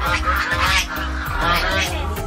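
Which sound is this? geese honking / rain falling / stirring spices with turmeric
geese honking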